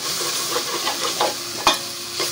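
Paneer pulav masala with salt being sautéed on a high flame, steady frying sizzle with rhythmic scraping and stirring strokes of a spoon against the pan, including one sharper knock.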